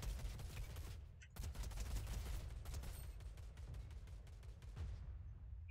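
Fortnite gunfire: dense, rapid volleys of shots crackle continuously at close range, with brief gaps and a few sharper cracks standing out, no talk over it.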